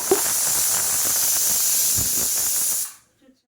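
Steam hissing loudly and steadily from idli cooking on a stove, a bright continuous hiss that cuts off abruptly near the end, with faint kitchen clatter beneath.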